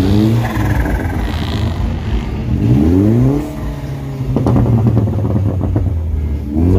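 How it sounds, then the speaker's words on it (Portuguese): A car engine revs in rising pulls with a faint whistling turbo spool at a Halloween car meet, loud and close, with a steady rumbling drone between the climbs. "Só a turbininha cantando"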